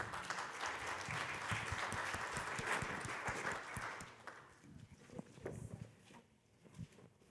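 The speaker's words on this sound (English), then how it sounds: "please give a huge round of applause for Deepika" An audience applauds a speaker introduced for a talk on AI-driven organizational transformation, a fairly faint, dense clapping that thins into scattered claps and fades over about seven seconds.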